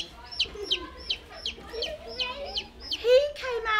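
Tiny chicks and ducklings peep in a steady run of high, sharp calls, about a dozen close cheeps spaced across the moment, with softer lower chirps and faint murmuring underneath.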